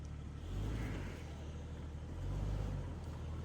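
A Jeep's engine labors and revs while crawling over an obstacle on the YanSing Gulch off-road trail in Colorado, a steady close low rumble swelling twice as the throttle rises, with no talking.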